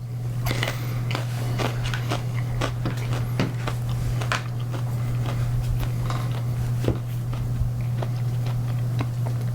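Close, crisp bites and crunchy chewing on a Black Pearl pepper, irregular wet crunches repeating for several seconds over a steady low hum, with no talking.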